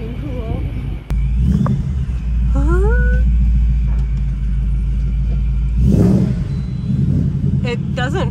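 Supercharged Ford Mustang Mach 1 V8 with ID1000-class injectors idling loudly and close, with a steady low rumble and a sharp throttle blip near the end, while people talk over it.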